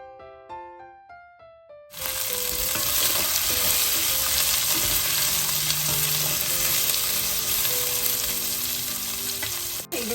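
Chopped small onions (shallots) tipped into a pan of frying potatoes: after a few quiet tones, a sudden loud, continuous sizzle and crackle of hot oil takes over and holds steady, close up, with no voices.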